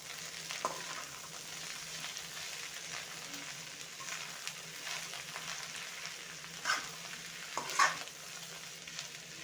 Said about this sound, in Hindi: अभी मैं साग को ऐड कर देंगे। अभी मैं अच्छे से मिक्स करेंगे।